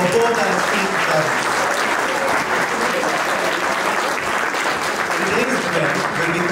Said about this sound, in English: So give a big round of applause for both our speakers.